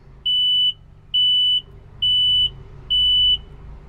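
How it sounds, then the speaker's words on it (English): Warning beeps from a Ryobi ZT480ex battery-powered zero-turn mower, sounding while no one is on the seat: four evenly spaced, steady electronic tones, each about half a second long, loud and clear over a faint low background hum. "It's beeping because I'm not sitting on it."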